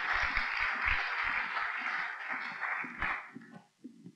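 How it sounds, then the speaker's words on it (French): Audience applause at a business-minded conference, a dense steady wash of clapping that thins out toward the end, with a voice talking over it at intervals. "On peut applaudir."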